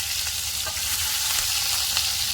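Asafoetida and finely chopped chillies crackle in hot oil as a tempering for leftover-rice fodnicha bhat, a steady, dense, close sizzle with no voices throughout.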